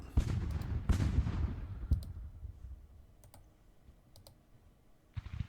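Age of Sail naval cannons boom in Ultimate Admiral, with several loud, close blasts in the first two seconds, then a few sharp distant cracks spaced apart and another burst at the end.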